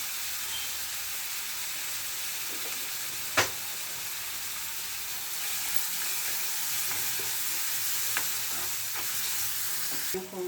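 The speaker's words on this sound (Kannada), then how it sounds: "ಜಲ್ದಿ ಅರಿಶಿನ ಹಾಕ್ಕೊಂಡ್ರೆ ಜಲ್ದಿ ಈರುಳ್ಳಿ ಫ್ರೈ ಆಗುತ್ತೆ" Onions frying with turmeric powder in a pan for a chickpea palya give a steady, close sizzle, with a sharp utensil knock and a few light stirring scrapes throughout.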